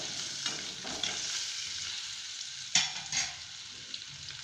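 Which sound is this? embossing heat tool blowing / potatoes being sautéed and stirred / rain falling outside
potatoes being sautéed and stirred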